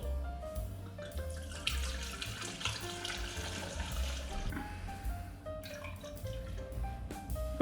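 Alcohol is poured steadily into a container for homemade basil liquor, a half liter of liquid running and gurgling quietly for several seconds.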